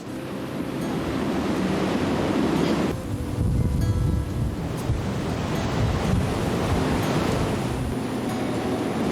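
Roaring waves of the winter East Sea crash continuously, loud and near, with heavy wind buffeting throughout and no voices.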